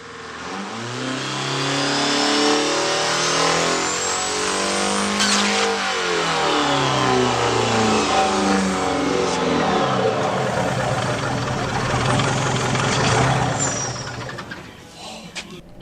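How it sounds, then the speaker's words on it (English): A runaway diesel truck engine, fed by oil it should not burn, screams at high RPM in a loud, sustained roar that climbs and wavers, with brief rattles and hisses before it winds down near the end. "a runaway diesel engine is when you start it and the engine starts to consume like oil or a liquid that it's not supposed to, and it revs"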